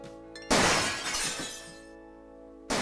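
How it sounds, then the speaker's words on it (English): Glass shatters in the Gabriel Knight video game: one sudden loud crash that rings and fades over about two seconds, then cuts off abruptly, over a quiet background tone. "Gabriel hears the faint sound of breaking glass."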